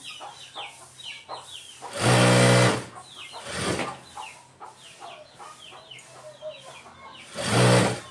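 A sewing machine stitches along a fabric edge in two short loud whirring runs, separated by quieter handling noises and light clicks.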